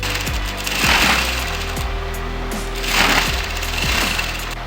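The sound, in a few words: sewing machine stitching blouse fabric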